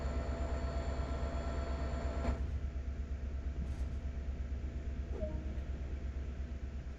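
A train rolls along steadily in the Train Sim World game on the Peninsular Corridor, with a continuous low mechanical rumble and a brief click partway through, no voices.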